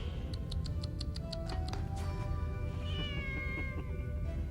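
A cat in an anime episode meows several times in quick succession over a busy background with a ticking rhythm, then softer tonal sounds follow; no speech.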